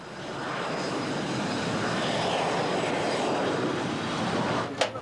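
An Alpha Jet military jet roars past in a steady, loud broadband rush that swells and fades slightly, with no voices over it.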